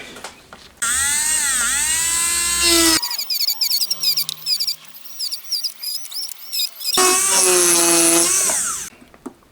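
Small power tool grinding away welds on a homemade honing tool for a Honda Monkey engine: loud, high whining bursts of grinding, broken by a stretch of rapid stuttering contact scrapes, then another long whine, close up with no talking.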